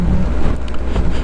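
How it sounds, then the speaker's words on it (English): Heavy wind buffeting a helmet microphone on a motorcycle ride, a loud continuous roaring rush with gusty swells and no speech. "Very windy."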